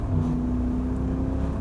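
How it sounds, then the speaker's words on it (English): Supercharged V8 in a 2013 BMW M3 rumbling with a deep, steady exhaust drone, close and fairly loud for a short stretch with no talk. "the exhaust sounds good"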